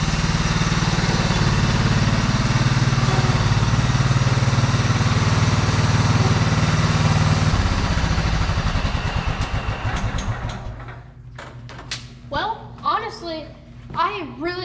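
A racing lawn mower's small engine, with its deck removed, roars steadily for several seconds, then winds down to a rough idle as a voice chatters in short bursts nearby.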